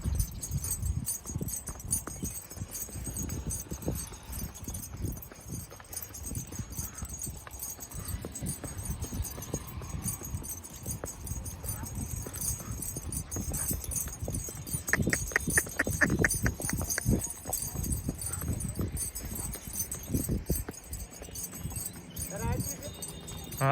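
A horse being ridden, its hooves clip-clopping in a steady rhythmic gait that grows louder midway, with people talking over the hoofbeats throughout.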